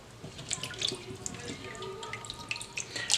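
Running tap water splashes over vegetables being rinsed in a kitchen sink, a steady close trickle with scattered drips and light knocks, and a brief louder splash at the end.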